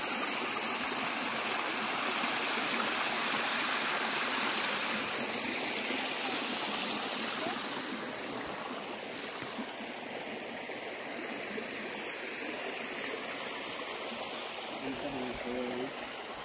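A stream of clear water flows steadily, a broad rushing and trickling wash that stays loud and continuous throughout, with faint outdoor background under it.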